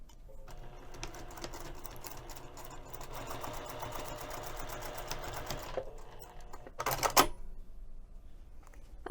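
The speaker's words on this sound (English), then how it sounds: "we're going to sew this short end using a 1/4 inch seam allowance" Sewing machine stitching a short end seam of fabric with a quarter-inch seam allowance, a steady rapid mechanical whir for several seconds that stops, followed by a brief clatter, close up.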